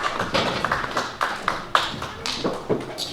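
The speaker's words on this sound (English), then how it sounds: "let's just give a massive hand of applause as our Ankhoswe as they are going down" An audience claps for the Ankhoswe at a Malawian heritage event, an uneven, sparse patter of hand claps rather than a full roar, close by and without talking.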